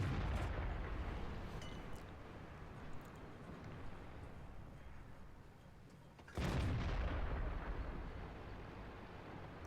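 A Panzer 58 Mutz tank fires two blind shots in World of Tanks. Each is a loud, heavy boom with a long rumbling decay, the second coming about six seconds after the first.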